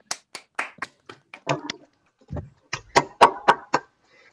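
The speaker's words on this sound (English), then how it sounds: "So if we can do a round of applause" Scattered claps, a few at a time, from an online seminar audience of unmuted participants, each sharp and separated by silence, sparse and uneven rather than a full ovation.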